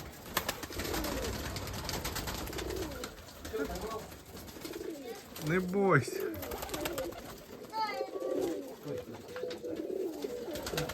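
Pigeons coo in short bursts close by, mixed with other bird calls and rustling, while a person speaks briefly.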